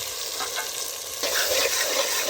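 Tomatoes frying in a little oil in a pan for a green pigeon pea dal, giving a close, continuous hiss and sizzle that grows slightly louder partway through, with no talking.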